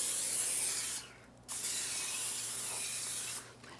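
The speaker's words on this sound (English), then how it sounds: "So I'm going to spray with Pam" Pam cooking spray hisses into a baking pan in two long bursts with a short pause between them, close and clear.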